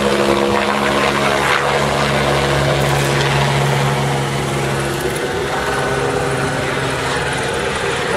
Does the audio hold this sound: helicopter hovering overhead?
yes